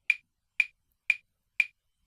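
Four crisp metronome clicks at 120 BPM, evenly spaced about half a second apart, each dry and isolated in silence.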